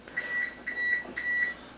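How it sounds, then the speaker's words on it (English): Kitchen oven signalling that preheating is finished: a short series of high electronic beeps in three evenly spaced pairs, clear but moderate in level against a quiet room. "that would be the beeping of my oven to let me know that it has finished preheating"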